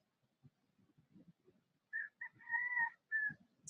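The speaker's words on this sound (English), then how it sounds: "the roosters are so awesome here on Kauai" A rooster on Kauai, Hawaii, crows once at moderate distance, a rising then held call, with soft scattered clucks and rustles around it.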